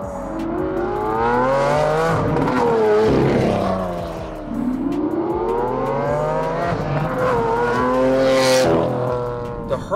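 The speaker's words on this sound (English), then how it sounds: "We have something that accelerates the exhaust flows and puts the gas up to a different pitch" Lamborghini Huracan V10 with an aftermarket exhaust revving, two long rising and falling sweeps of a high, raspy engine note, loud and close, with no talk over it.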